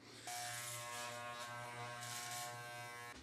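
Electric hair clippers run with a steady, close buzz while shaving the side of a head, a constant motor whine lasting about three seconds before cutting off.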